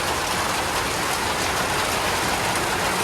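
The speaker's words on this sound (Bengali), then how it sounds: "এখন বৃষ্টিও নামছে, দেখেন প্রচুর বৃষ্টি হইতেছে।" Heavy rain pours down in a village, a dense, steady hiss of drops drumming on surfaces that fills the whole stretch at an even level with no voices.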